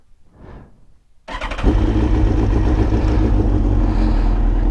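After a brief whir, a Suzuki GSX-R motorcycle engine catches and settles into a loud, steady idle with a throbbing low rumble, nearby and continuous.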